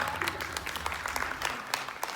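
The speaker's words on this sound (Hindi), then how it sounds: "तो प्लीज अपने लिए ताली बजा दीजिए एक बार।" Audience applause at a women's community meeting, a dense steady clatter of many hands clapping together for about two seconds, moderately loud with no voices over it.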